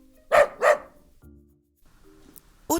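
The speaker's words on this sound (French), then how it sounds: "Un chien." A dog barks twice in quick succession, loud and close, followed by quieter low sounds and a brief final yelp.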